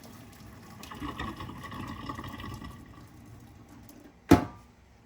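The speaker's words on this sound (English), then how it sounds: "I'm going to strain it and I'll make mashed potato. Strain the juice, the liquid." Liquid drained from a pot of boiled potatoes pours as a soft, steady splashing wash, fading out before a single sharp clunk near the end; no one speaks.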